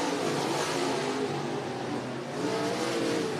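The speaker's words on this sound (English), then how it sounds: "Jake Maiden having a good run here at heat race number 2" Race cars roaring around the Cottage Grove Speedway track in a heat race, a loud continuous engine drone with a slight dip and swell as cars pass.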